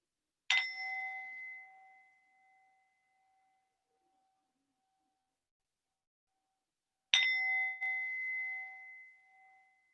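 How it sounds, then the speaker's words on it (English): A meditation bell rings twice, each strike clear and resonant with a long, slowly fading tone, separated by about six seconds of silence in a quiet room. "I'll ring bell to mark the end of each stage"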